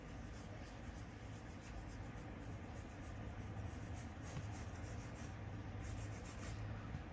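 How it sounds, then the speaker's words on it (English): Quick pencil sketch on paper, a steady soft scratching and rubbing of graphite strokes running continuously and close up, with no talking. "Just get a quick sketch going here."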